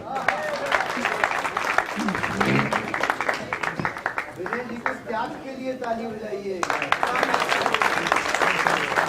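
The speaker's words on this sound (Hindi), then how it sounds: "ताली बजाइए एक बार जोर" Audience applause at a Diwali poetry gathering at a Delhi college, sharp claps under and between someone speaking, rising again strongly near the end.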